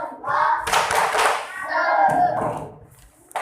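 Schoolchildren in an elementary classroom perform the tepuk salut clapping cheer, a burst of brisk rhythmic group claps mixed with young voices chanting along, loud and close.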